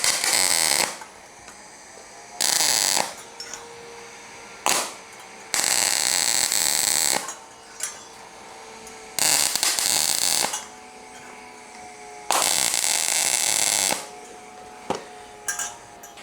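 Repeated bursts of MIG-style welding tacks joining the bottom petals of a metal lotus flower sculpture, each crackling buzz lasting one to two seconds, loud and close, separated by brief quiet gaps.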